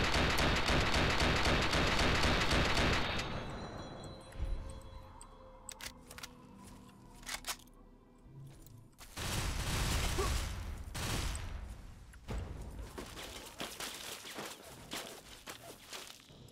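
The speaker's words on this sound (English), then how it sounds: "I'm going to have to start shooting back" Gunfire in a shootout in modded Fallout 3, heard as loud, dense bursts of shots that fall quiet in the middle and then return in heavy volleys, with scattered clicks and footsteps between them.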